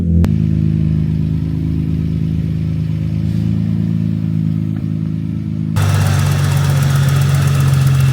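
A Nissan Skyline R32 idles steadily just under 1,000 RPM, a close, loud, even rumble throughout, growing harsher and louder after a brief knock near the end.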